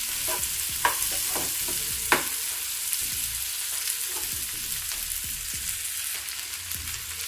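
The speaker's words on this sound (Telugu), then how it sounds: "ఇదంతా ఒకసారి కలిపి మిక్స్ చేసుకోవాలి." Vegetables and peas fry in a pot for veg dum biryani while they are stirred, giving a steady close sizzle with repeated utensil scrapes and light knocks against the pot and no voices.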